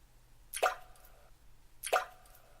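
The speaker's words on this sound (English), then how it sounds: "The sound of falling drops." Two separate water drops fall and plop in the video game Sound of Drop, each a crisp, resonant drip against near silence, about a second apart.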